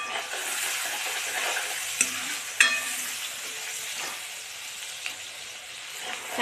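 Onions sauté in a pan with asafoetida, a steady close frying hiss with a couple of brief spoon taps on the pan and no voices.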